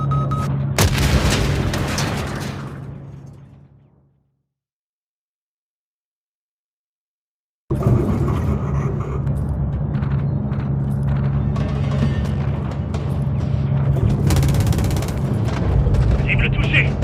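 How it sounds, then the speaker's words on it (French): Missile strike explosions hit an enemy anti-aircraft battery in Call of Duty Modern Warfare III, loud booming blasts that fade into a few seconds of silence before another heavy rumbling barrage of gunfire and explosions rolls on. "Larguez un missile sur cette batterie anti-aérienne."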